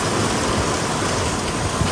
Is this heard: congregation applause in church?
no